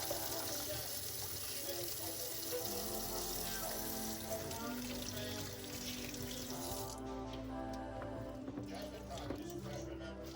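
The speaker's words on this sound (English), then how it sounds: "Going back to the hash, it got a little color to it, so we gotta rinse that out." Grated potatoes for hash browns are rinsed under a running tap, a steady splashing water stream that holds throughout, with a shift in tone partway as the flow changes.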